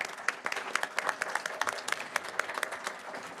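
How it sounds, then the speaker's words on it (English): Attendees at a school district board of education meeting give a brief round of applause, a small group of separate hand claps heard distinctly at moderate volume with no talking. "Can we give them another round of applause"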